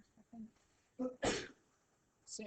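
A single sharp sneeze bursts out during an algebra lecture on graphing polynomials, framed by brief murmured talk before and after.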